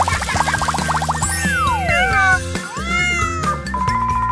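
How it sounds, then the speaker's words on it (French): A kitten meows repeatedly, rapid high mews followed by longer sliding cries, loud and close over a bouncy cartoon music bed with a few playful boing-like effects. "Mon chaton, tu vas être merveilleux."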